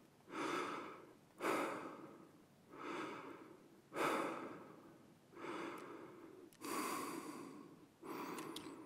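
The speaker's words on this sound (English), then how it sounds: "Bit of heavy breathing." Heavy, labored breathing from a character in Escape From Tarkov, about seven slow, regular breaths, each a rasping inhale and exhale, close and fairly faint with no talk.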